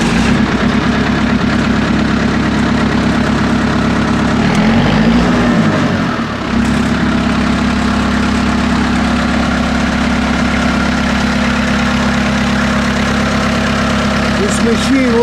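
A Miller Big 40 engine-driven welder idles with a steady, loud, continuous engine drone, and a brief shift in pitch occurs partway through before it settles back to the same even rumble.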